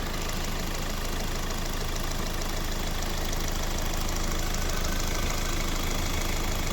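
A 2013 Hyundai i40 with a 1.7 CRDi 136-horsepower diesel engine runs steadily with a dense, even mechanical clatter, close and continuous, with no talking.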